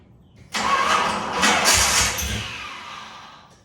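Chevrolet Corvette engine cranking and catching after an ignition replacement, a sudden loud start that settles into a fading idle, close by with no talk.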